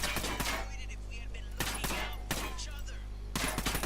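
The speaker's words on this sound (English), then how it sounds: "so it's single shot with a suppressor" Suppressed single shots from a rifle in the video game Ghost Recon Wildlands: several muffled, sharp cracks fired at irregular intervals over a steady low game-ambience hum, with no talking.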